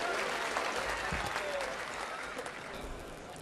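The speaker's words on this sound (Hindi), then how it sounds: "जोरदार तालियों से इनका अभिनंदन करेंगे।" Audience applause welcomes a speaker at a gathering of saints and devotees, a dense, steady wash of many hands clapping that holds throughout and eases slightly toward the end, with no talk over it.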